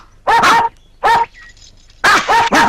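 Dog barking in loud, harmonic bursts: a double bark, a single bark about a second later, then another pair, each close and clear with quiet gaps between.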